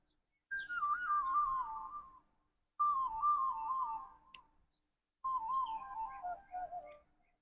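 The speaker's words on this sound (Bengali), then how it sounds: "বরং শোনা যায় পাখির কলতান" Birdsong in a rural Bengal village countryside: three long, warbling whistled phrases, each gently falling in pitch, separated by short pauses, clear and fairly close with no voices.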